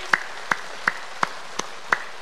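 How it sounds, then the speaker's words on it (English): A laughter yoga group claps in unison, seven sharp, evenly spaced claps at a steady brisk beat, close and clear with quiet in between. "in laughter yoga we have to clap like this"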